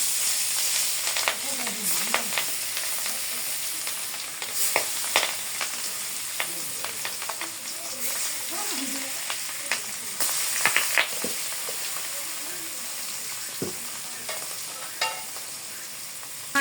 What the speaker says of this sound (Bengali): তেল গরম হয়ে গেছে এখন আমি মাছ দিয়ে দিই